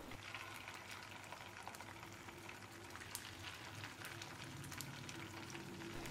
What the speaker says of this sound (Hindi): ऑयल गर्म हो गया है, अब एक एक करके इसमें टिक्की को डालेंगे और फ्लेम को स्लो मीडियम रखेंगे।